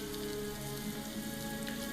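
Steady rain pattering on a surface around the helm of a ship in a fantasy D&D setting, a dense continuous hiss with faint tonal music or ambience underneath and no voices.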